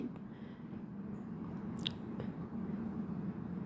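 Onion pakoda batter of sliced onion mixed by hand with a ladle of refined oil, giving soft, close, continuous squishing and squelching over a low hum, with one faint tap partway through.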